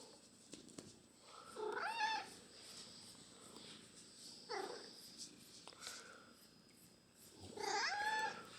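A farm cat meows softly three times at spaced intervals, faint and somewhat distant over a low background hiss, with no talking.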